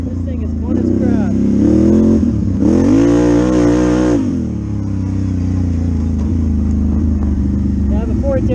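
A quad ATV engine revving loud and close while being ridden, a steady mid-pitched drone that surges up in pitch for a couple of seconds before settling back, with wind noise over the top.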